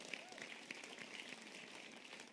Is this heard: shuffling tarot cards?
no